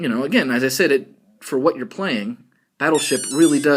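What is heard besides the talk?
No everyday noises stand out.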